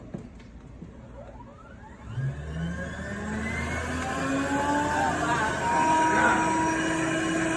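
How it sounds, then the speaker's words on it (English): A Shark vacuum cleaner switched on, its motor spinning up about two seconds in and rising into a steady, whirring whine over a low hum, close by. "Just want to show you what happens every time you fire your vacuum."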